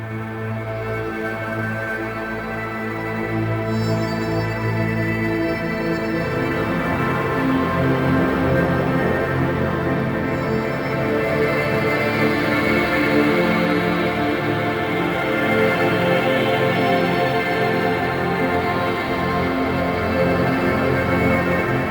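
A sustained, layered guitar-like texture shimmers and drones, evolving slowly with dense, ambient tones and no clear rhythm.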